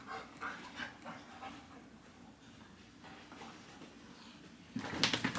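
A dog pants in quick, soft rhythmic breaths close by, with a few scattered faint noises in the room and a louder burst of movement at the end.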